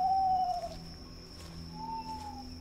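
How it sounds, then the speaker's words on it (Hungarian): Owl hooting inside the PC horror game Left Behind: two drawn-out tonal hoots, one at the start and one near the end, faint over a steady electronic hum and ambient drone. "Nagyon hangos ez a bagoly."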